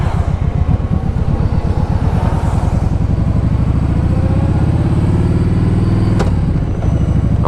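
A 2010 Kawasaki Vulcan Voyager ABS touring motorcycle on the road, its engine giving a loud, steady, throbbing pulse with a slight pitch shift near the end and wind noise over it.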